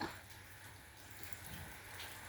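Rain falls steadily outside a rural house during a spell of wet weather, a soft continuous hiss with scattered drops tapping on nearby surfaces, fairly faint and even throughout with no one talking.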